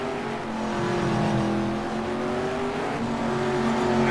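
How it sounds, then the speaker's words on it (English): Race cars pass at Barbagallo Raceway, a loud continuous engine roar with steady whining tones as the leaders go by, building slightly toward the end with no voices over it. "So here's our leaders going by, Edwards and Hooper"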